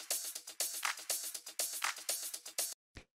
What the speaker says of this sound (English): So yeah, that's just like a nice percussion layer in the background.